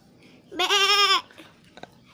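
A voice imitates a goat in a village setting with one loud, wavering bleat lasting about half a second, followed by a few faint clicks and rustles.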